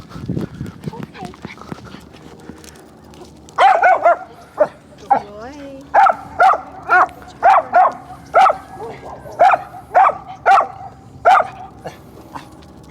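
Reactive dogs on leashes bark repeatedly as they are walked toward each other, a run of loud, evenly spaced close barks following brief talk.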